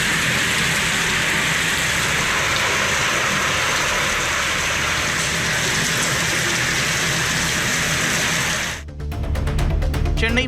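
Heavy rain pours down in Chennai, a loud, dense, continuous hiss of water falling and splashing across hard surfaces, unbroken until a brief dip near the end.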